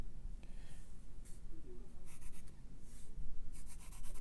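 A pencil stroking across paper while drawing a cube, soft scratchy strokes in short separate runs, close up against a steady background hiss.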